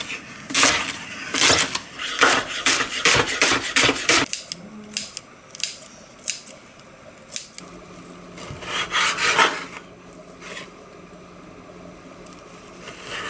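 A knife cuts beef into thin strips on a board, giving repeated rasping, scraping strokes in bursts, with a pause midway and quieter slicing later.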